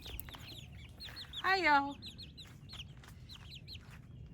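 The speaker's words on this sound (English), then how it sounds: "here are the new chicks, some of them" Young chicks chirp and cheep in quick, high bursts close by, with one louder call rising mid-clip while a person speaks briefly over them.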